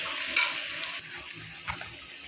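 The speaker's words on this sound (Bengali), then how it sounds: "এবার একটু হালকা করে নাড়িয়ে" Chicken pieces being stirred gently in a hot pan, with a soft continuous sizzle and a couple of brief scraping clicks from the spoon, close and fairly quiet, no voices.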